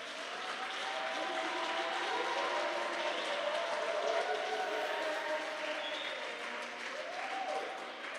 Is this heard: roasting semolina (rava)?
no